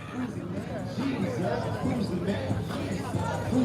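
Dense crowd chatter fills the stands at a Friday night football game, a steady hubbub of many overlapping voices with individual speech rising out of it.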